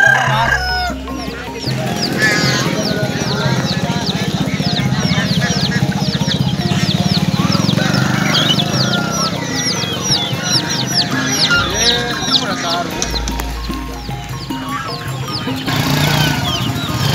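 Free-range village chickens at a traditional Indonesian market cluck and crow repeatedly, a busy overlapping chorus of rooster calls and hen clucks close by, with low market bustle and occasional voices underneath.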